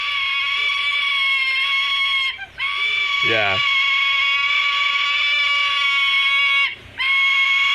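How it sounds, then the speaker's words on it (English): A sulphur-crested cockatoo chick screams loudly and continuously for its mother to feed it, in harsh, raspy bursts, with two brief pauses and a quick spoken word in between. "It's a sulfur-crested cockatoo screaming for its mother to feed it."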